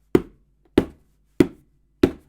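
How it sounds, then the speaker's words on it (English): Four hollow, thuddy taps of a hand on a cardboard box, evenly spaced about every two-thirds of a second, close and distinct with silence between. "we don't really need a stick to hit this box with either. We can just tap it"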